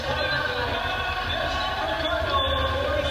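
Basketball arena crowd at a women's college game between Stanford and Cal, a steady loud roar and cheer as the quarter's final seconds expire, filling the space continuously under faint commentary.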